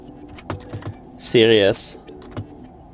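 Light clicks of typing on a computer keyboard, a few scattered taps around a brief tonal burst, fairly quiet and close.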